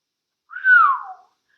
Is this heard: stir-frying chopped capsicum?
no